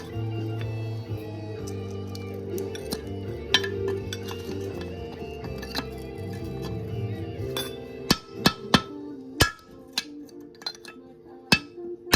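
Parts being hammered into place during a budget clutch replacement on a Honda Wave motorcycle, with a series of sharp metallic knocks and clinks in the second half, close and distinct over a low steady hum.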